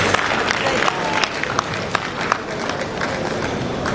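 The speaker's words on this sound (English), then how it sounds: "Please clap for Ambassador Ikechi, please" Audience at a tourism panel discussion claps for a panelist, a scattered, uneven patter of hands with sharper individual claps throughout, fairly close.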